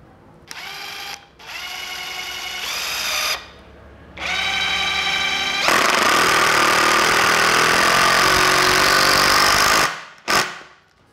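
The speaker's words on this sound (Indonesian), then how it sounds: "Ini kita coba sekrup yang lebih panjang" A Bosch GDX 18V-200 cordless brushless impact driver drives a longer screw, several short whirring bursts stepping up into a sustained loud hammering rattle for about four seconds, then stopping with a brief final burst, close up with no talking.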